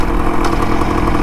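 A Can-Am motorcycle engine running on a restoration test ride, a close, loud, steady mechanical chug with a rough, clattering texture.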